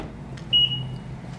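Door locking on a 2017 Honda Pilot EX-L with a single short high beep as audible confirmation, clear and brief over a low idle-like hum.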